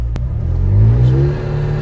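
A McLaren 720S with a loud straight-pipe exhaust revs hard on a night drive, the engine note climbing and swelling up close, with a sharp click near the start.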